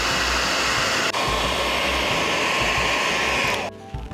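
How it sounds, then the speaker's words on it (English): A blow dryer runs steadily and loudly close up, warming wax behind an AirPods 2 speaker screen, with a broad airy whoosh and motor hum that continues for about three and a half seconds before cutting off. "take the blow dryer and try to warm up any wax that got behind the screen"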